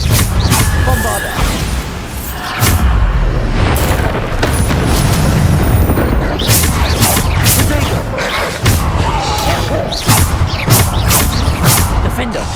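Repeated Bombarda spell blasts in the video game Hogwarts Legacy, a dense run of booming explosive bursts mixed with other spell effects and a voice calling out spell names throughout, loud and continuous.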